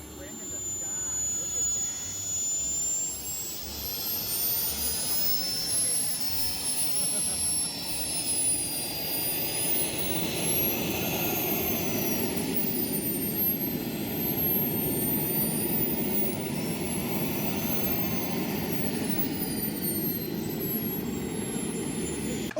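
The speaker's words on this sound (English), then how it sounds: "This jet demo was super fancy." A radio-controlled model jet screams overhead through a thrust-vectoring display at a large RC aviation event, its turbine whine rising and falling in pitch as it passes, loud and continuous, with crowd chatter underneath.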